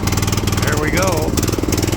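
A Ranch King riding lawn mower engine runs steadily just after a cold start, a close, continuous mid-pitched drone with a brief rising and falling rev in the middle, while voices talk over it.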